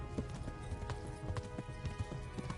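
Hooves of a galloping horse in the medieval role-playing game Kingdom Come: Deliverance, a steady rapid clip-clop rhythm of thuds running close and loud throughout, with no talk.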